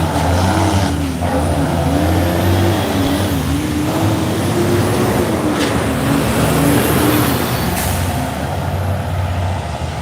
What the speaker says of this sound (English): A lot of construction trucks, dump trucks, that's why it's noisy.